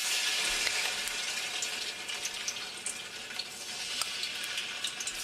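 Steady crackling sizzle of tomato paste frying in plenty of hot oil for Nigerian jollof rice, with scattered pops and spits over a constant hiss.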